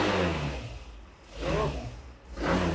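A used Hero Thriller FI ABS motorcycle with double disc brakes revs its engine close by, with three swelling throttle blips separated by lower idle, and no talk over it.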